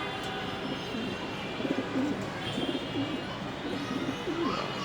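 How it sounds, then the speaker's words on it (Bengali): Several racing pigeons coo in low, repeated throaty calls, close by, over a steady background hum. "কবুতর সব ঢুকে গেছে"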